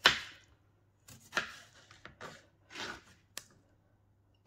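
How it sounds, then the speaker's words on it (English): Knife chopping tomatoes finely on a cutting board for a stir fry, a few irregular close chops spread out with pauses between them. "The tomatoes you need to chop up quite finely"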